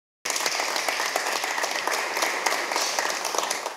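A church audience at a gospel singer's event bursts into sustained applause for the Lord, steady clapping from many hands starting abruptly and holding loud throughout.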